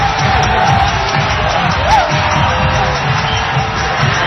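A steady, loud crowd roar from a packed cricket ground at Kingsmead, Durban, as supporters cheer for India, a dense continuous wash of voices with a brief whoop rising above it.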